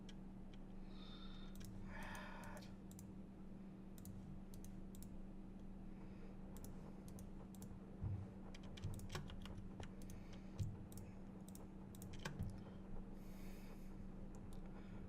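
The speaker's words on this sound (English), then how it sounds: "Damn you, shift clicking." Quiet keyboard and mouse clicking while playing Minecraft, with scattered soft taps and clicks over a steady low hum, no speech.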